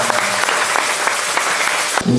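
A church congregation applauds and cheers for the Lord in a brief burst of dense, continuous clapping that fills the room, then cuts off abruptly.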